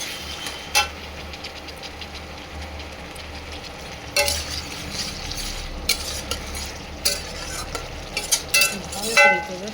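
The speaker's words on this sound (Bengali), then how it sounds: "এবার একটু মশলা ধুয়ে রাখা জল দিয়ে দিচ্ছি।" Spices and turmeric sizzle in a pan as the water used to rinse the spices is poured in for a Bengali fish dish, giving a steady close frying hiss with spatula stirring and clatter over it, no talking.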